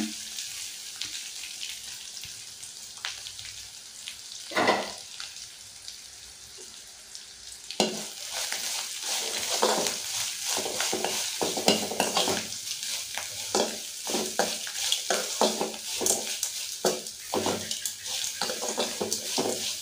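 Grated coconut and flattened rice are stirred in a frying pan: a soft sizzle and a single clatter at first, then brisk, repeated spatula scrapes over a low hiss, close and continuous.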